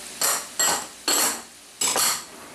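A spoon stirs dry hush puppy ingredients (cornmeal, flour, baking powder, salt, sugar and cayenne) in a bowl, making four distinct scraping strokes spaced apart, each a bright gritty swish that fades out.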